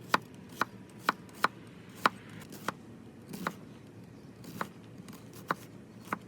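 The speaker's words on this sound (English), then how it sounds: "All right, let's switch over to the onion and see how it does. Slices right through it, of course." A knife dices an onion on a cutting board, giving about a dozen crisp, close chops in uneven bursts, some rapid and some spaced out, over a quiet background.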